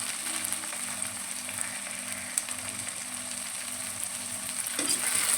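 Crushed garlic frying in hot oil with onion and tomato, a steady close crackling sizzle throughout with light stirring, growing slightly louder near the end.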